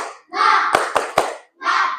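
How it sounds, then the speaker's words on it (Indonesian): A classroom of students chants in unison and claps sharply three times in rhythm between the chanted phrases of a spirited group cheer, loud and close. "Kita tepuk semangat. 1, 2, 3, tepuk semangat"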